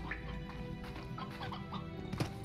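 Several chickens cluck softly in short bursts over a steady low background hum, faint and somewhat distant, in the video game Slime Rancher.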